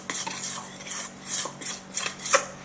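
Black pepper being stirred into a batter for kue bawang, an Indonesian fried snack, with a utensil scraping and tapping against the bowl in uneven strokes and a few sharper clinks, close by and moderately quiet.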